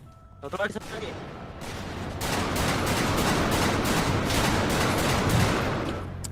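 Gunfire in a GTA V roleplay police-versus-gangsters fight: a few sharp shots, then a dense, sustained barrage of rapid automatic fire, loud and continuous. Voices talk over the gunfire.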